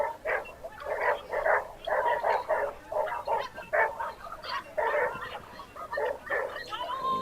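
Medium poodle barking repeatedly at an agility national competition, with a rapid run of sharp, excited barks carrying over crowd noise in the ring.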